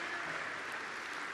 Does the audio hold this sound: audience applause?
yes